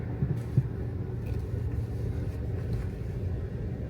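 A Stage 2 tuned MK7 VW GTI rumbles low and steady while driving, a continuous deep engine drone with a couple of brief knocks early on.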